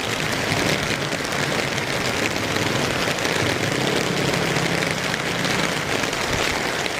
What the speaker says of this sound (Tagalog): Grabing ulan dito, parang bagyo na.